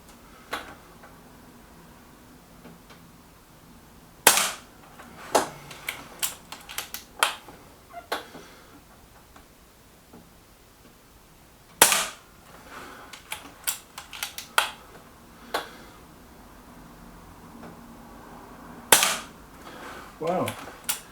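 Air Arms S510 air rifle firing JSB Match Diablo pellets: a string of sharp, fairly close shots spaced a second or so apart, each followed by faint clicks and mechanical handling noises, in three separate bursts.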